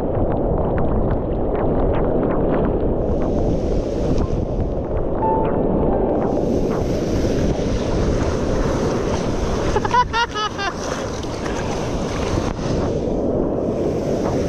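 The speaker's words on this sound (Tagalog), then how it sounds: "Grabe, hindi natin kaya yung alon. Kaya ano? Napakalalaki." Large ocean waves surge and crash on a rainy, stormy day, with strong wind buffeting the microphone in a constant roar; a brief rattling clatter cuts through midway.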